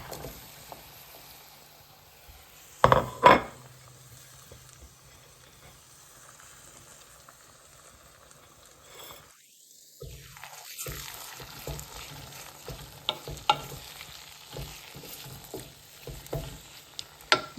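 Pointed gourd, potato and tomato hitting hot oil in a pan, a sharp clatter followed by a steady soft sizzle and occasional stirring scrapes, close and moderately quiet.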